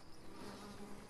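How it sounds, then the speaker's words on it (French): Bees buzz beside a honey pot in the Fortnite video game, a faint, continuous insect drone with no talk over it. "vous pouvez entendre des petits bourdements d'abeilles qui sont juste à côté du pot de miel"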